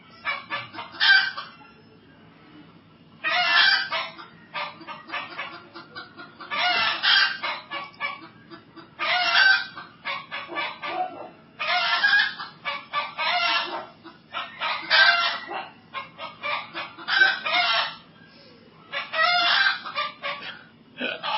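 A group of chickens clucks and crows in repeated loud bursts separated by short pauses, with a faint low hum beneath.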